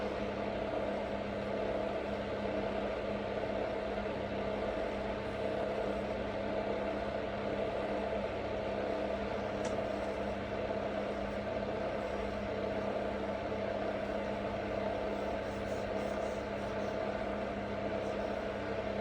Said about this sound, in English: I don't know if you can hear that whirring in the background, but I do have my little fan heater on